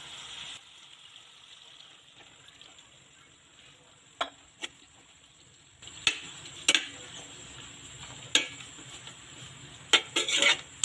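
Chicken simmering in a pan as Coca-Cola is poured in: a low, steady sizzle with sharp metallic clinks and scrapes of a utensil against the pan, growing busier in the second half.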